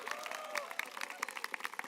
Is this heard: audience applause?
yes